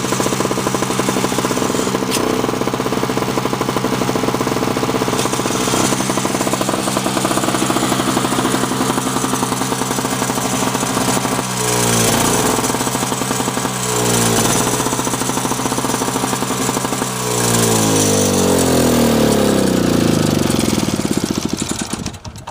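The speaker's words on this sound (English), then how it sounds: "Let me spin the augers over here so you see them working." A Sears two-stroke snowblower with a Tecumseh Snow King engine runs steadily at high revs, its loud buzzing drone constant while the augers spin, with pitch dips and a rising surge near the end.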